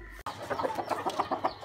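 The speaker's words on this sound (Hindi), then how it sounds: "अब इनको मुर्गों को खिलाते हैं।" Aseel roosters cluck softly and steadily while eating cucumber and mint, a run of quick, evenly spaced clucks after a brief thump at the start.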